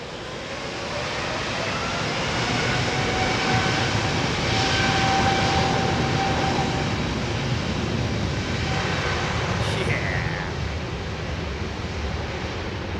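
Aircraft engine roar at London Heathrow Airport, a broad steady rumble holding loud and near throughout, with a faint thin whine rising briefly partway through.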